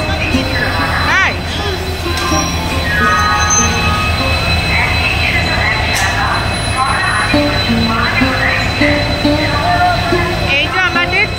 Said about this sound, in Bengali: এই যে আমাদের ট্রেন লোকোমোটিভ ইঞ্জিন আর 22861 আপ ইস্পাত এক্সপ্রেস